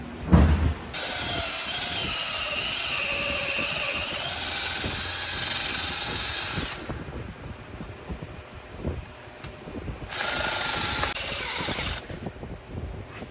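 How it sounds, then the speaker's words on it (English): A step drill bit whirs in sustained high-pitched bursts while drilling a hole in metal for a suspension shaft on a 1979 Camaro, stopping and restarting, with grinding, clicking bites of metal cutting and a brief pause between runs. "I go and drill the hole for this shaft"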